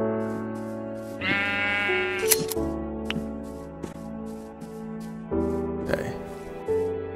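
Sheep in Minecraft bleat several times in short wavering calls, clear and fairly close, separated by brief pauses, with soft game sounds between them.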